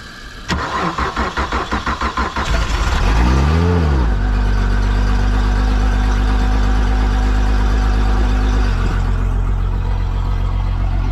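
A Honda outboard boat motor, the starboard unit, cranks with a rhythmic starter churn, catches and revs up, then settles into a loud, steady close-up idle that shifts slightly near the end, with no talking.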